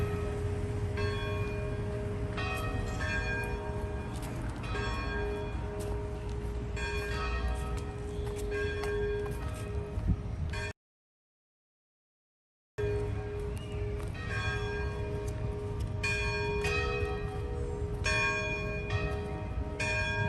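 Church bells peal steadily in an open town square in St. Augustine, Florida, layered strikes ringing continuously with a brief silent gap midway.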